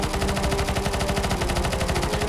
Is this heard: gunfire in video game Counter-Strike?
yes